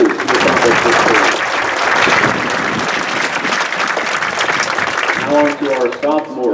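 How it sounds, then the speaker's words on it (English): High school band audience applauding the juniors at a Meet the Band Night, loud sustained clapping and crowd noise near the mic, with voices and cheers rising as it tapers off. "About one more round of applause for the juniors who accomplished this goal."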